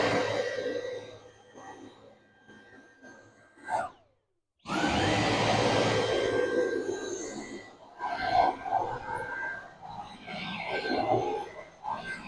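A Dyson V8 cordless hand vacuum runs on max power with its stair attachment on a rug, a steady loud whirring drone that briefly cuts out partway and then resumes with shifting tones as the head moves.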